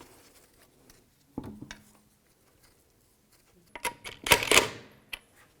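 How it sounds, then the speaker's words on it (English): Metal lug nuts clink and rattle as they are started by hand onto the wheel studs of a 2007-2012 Nissan Altima, with sparse close taps followed by a busier cluster of clicks and scrapes. "And I'll put the tire on. Get the lug nuts started."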